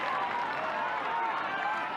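Stadium crowd at a 1998 Newcastle Knights versus Canterbury rugby league match, a steady dense roar of cheering and applause filling the whole stretch without letup.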